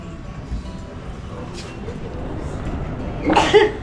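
A single sharp sneeze bursts out near the end, after a stretch of low background rumble and murmuring on a shopping street in Victoria, Canada.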